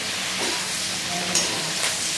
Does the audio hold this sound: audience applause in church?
no